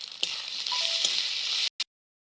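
Garlic and ginger paste hits a lightly oiled frying pan with a loud, steady sizzle that cuts off abruptly, followed by one short crackling burst.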